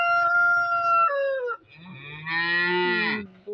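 Farm animals and chickens in a rural yard: a long, loud cow-like moo with rising and falling pitch, followed by a second drawn-out bellowing call, with no talking.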